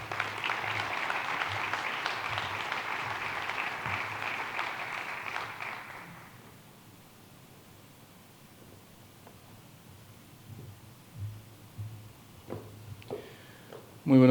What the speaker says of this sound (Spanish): Recibimos con un gran aplauso al señor ministro Mario Marcel.